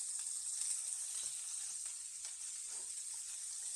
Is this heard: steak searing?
yes